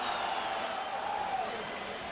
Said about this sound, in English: This crowd is playoff type loud tonight